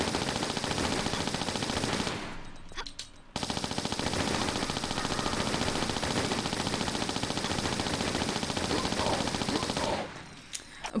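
Uzi submachine guns firing in the video game Tomb Raider (TRLE), long loud rapid-fire bursts with a short pause early on, then sustained firing that stops near the end.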